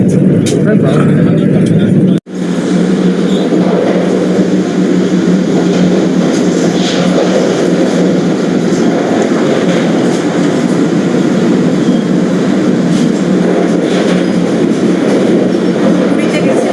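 Vande Bharat express from Howrah to Asansol, heard from inside the coach as a loud, steady low rumble and rush of travel, briefly dropping out for a moment near the start, with voices faintly present.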